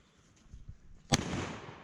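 A single sharp gunshot rings out outdoors at a target thrown into the air, a loud crack followed by a broad rumbling decay, after a few faint low thumps and movement noises.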